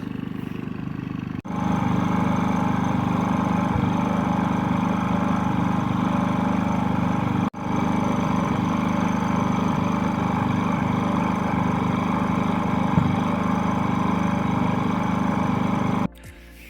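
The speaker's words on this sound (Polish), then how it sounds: "No, agregat trochę pochodził." A Konner & Sohnen KS 4000 iE S inverter power generator runs at a steady mid-pitched drone from a few metres away, with brief dropouts at two points, and no talking.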